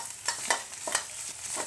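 Thai curry paste stir-fried in a pan for a mushroom curry, a close, steady sizzle broken by several rhythmic scrapes of the spatula, with no talking.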